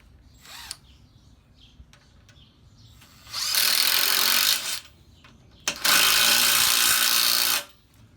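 A power drill drives screws into a fifth wheel hitch in two loud sustained bursts, each a few seconds long, separated by quieter clicks and handling noises.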